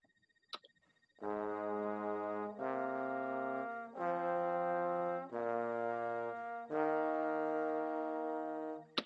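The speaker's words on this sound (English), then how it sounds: "And then here's trombones 2 and 4." Two trombones hold long sustained notes in harmony, moving through five chords with brief breaks between, warm and brassy, after a faint click at the start.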